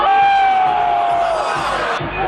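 A crowd at a DJ's show cheers and yells in a loud, sustained roar as he attempts a stage dive, with shouted voices rising above the mass before it cuts off abruptly.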